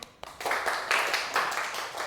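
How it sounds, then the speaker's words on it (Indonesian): A classroom of students clapping together for a short burst, dense overlapping claps with a few sharp taps at the start, fairly quiet and close. "Tepuk tangan untuk semuanya"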